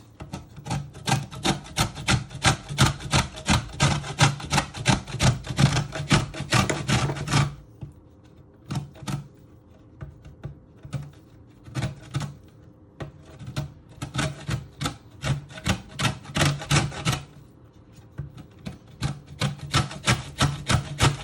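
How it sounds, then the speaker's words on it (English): Fruit skin rasped up and down on a hand grater for mince pies, a rapid rhythmic scraping in close, loud runs that halt for a few seconds before resuming steadily. "So you grate it up and down using your grater."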